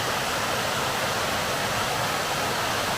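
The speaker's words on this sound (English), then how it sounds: "Beautiful waterfall" Steady, broadband rush of falling water, continuous and even, heard from a moderate distance with no voices.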